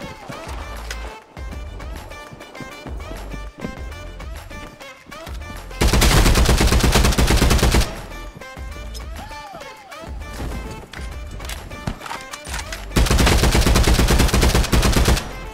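Gunfire rings out in the VR battle royale game Contractors Showdown, with scattered shots and two long loud bursts of rapid automatic fire, amid footsteps and movement.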